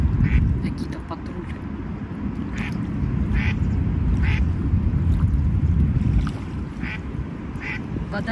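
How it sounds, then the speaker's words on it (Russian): Ducks quack repeatedly in short bursts by the water, spaced irregularly over a loud, constant outdoor rumble like wind or water. They sit at a moderate distance, and a voice speaks at times over the scene. "Утки эти."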